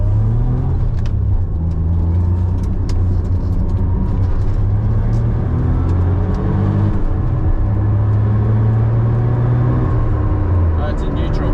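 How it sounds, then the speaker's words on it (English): A Suzuki Cappuccino's noisy rear end, suspected CV joints or drive shafts, produces a loud continuous low drivetrain drone and rumble with a wavering whine running throughout. "Still noisy. So I guess it's those CVs or drive shafts."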